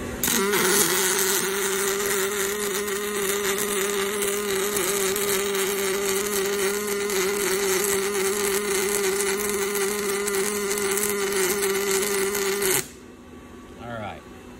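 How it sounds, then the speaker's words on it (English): Fanuc robot running an arc weld, a steady crackling buzz with a sustained tone that holds loud and even for about thirteen seconds, then cuts off abruptly, leaving a quieter background. "turn my weld on, back to this one"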